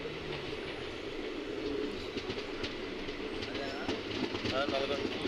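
Train standing at Nalgonda station during an overnight run, with a continuous rumble, faint clicks and clatter, and birds chirping in the background.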